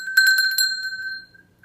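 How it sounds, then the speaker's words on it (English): A small ritual bell at a home altar is struck a few times in quick succession, giving a bright, clear metallic ring that fades away over about a second, close and alone. "And I have my bell, which I use in ritual"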